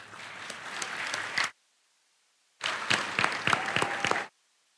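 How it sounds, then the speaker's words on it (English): Two bursts of clapping from a crowd at a Florida Bar convention general assembly, each lasting under two seconds, separated by a short silence. "I'd like for you to join me in a round of applause"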